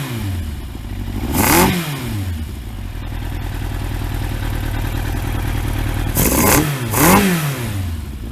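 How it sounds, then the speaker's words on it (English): A Yamaha Thunderace motorcycle engine idles with a steady mechanical clatter during a carburettor strip, then the throttle is blipped, producing one sharp rev early and two quick revs near the end, each rising and falling back to idle. "I'm going to try and show you what happens when you rev the engine."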